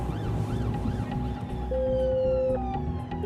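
Wailing police car siren on a motorway, its sweeping rising and falling tones loud and close over steady road and engine rumble, continuous throughout.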